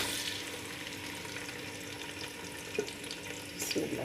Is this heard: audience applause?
no